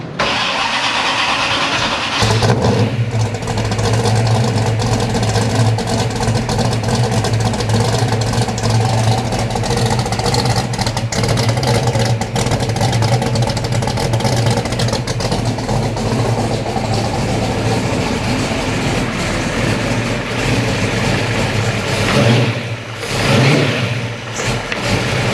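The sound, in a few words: Hemi Cuda car engine starting and revving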